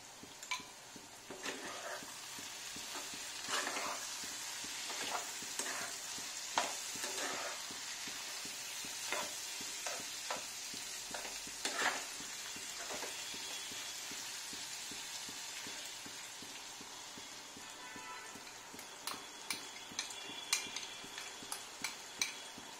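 Chowmein sauces of tomato ketchup, chili sauce, soy sauce and vinegar sizzle faintly in a frying pan while a utensil stirs them, with scattered soft scrapes and taps against the pan.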